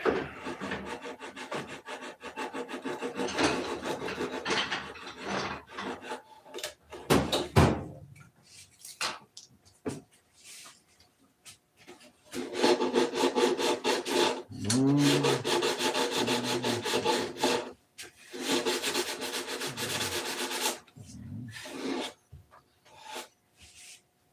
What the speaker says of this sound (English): little more to sand right there